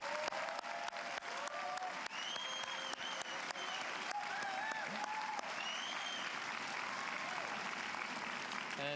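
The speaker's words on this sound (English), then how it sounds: "Let's give them another round of applause, please." A Snow College commencement crowd gives professors and staff a long round of applause, steady dense clapping mixed with whoops and high cheers, heard from a distance and fairly faint.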